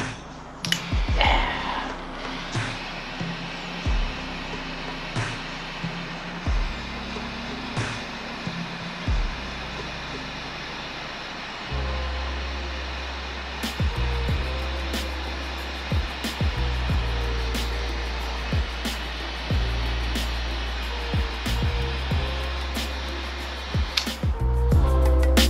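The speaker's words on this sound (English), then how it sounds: "Got the trusty flea bay torch." A cheap eBay torch heats heat-shrink tubing over a copper battery terminal, giving a steady low roar with occasional small clicks and pops throughout.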